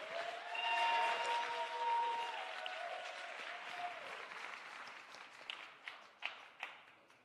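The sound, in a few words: audience round of applause for speaker Gerald Lucas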